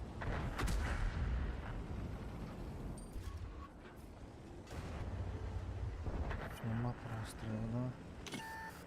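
Heavy booming blasts of artillery fire ring out repeatedly amid video game noise, with a few electronic beeps near the end.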